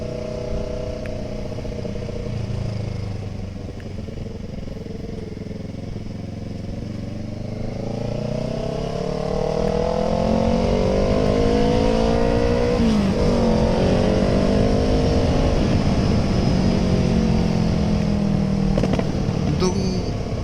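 Kawasaki ER6n motorcycle revving and accelerating nearby, engine pitch climbing steadily and growing louder over about twenty seconds, with rumbling mechanical clatter throughout.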